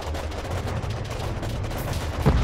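Rapid gunfire and explosions from the Warpips strategy game form a dense, continuous clatter with low booms, and a slightly louder burst comes near the end.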